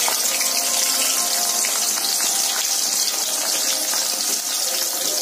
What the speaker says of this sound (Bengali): পেঁয়াজটাকে আমি কিছুটা সতে করে নিচ্ছি